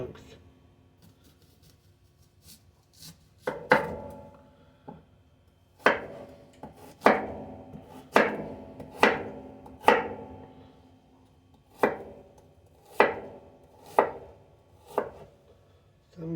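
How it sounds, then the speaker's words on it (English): A knife chopping okra into large chunks on a cutting board: about a dozen sharp, irregular chops, sometimes in quick pairs, close and clear, with quiet pauses between. "Okay, we're going to chop that."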